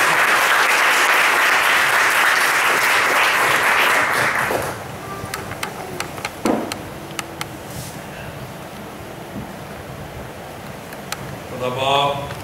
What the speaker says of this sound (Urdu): آئیے زوردار تالیاں بجاتے ہیں.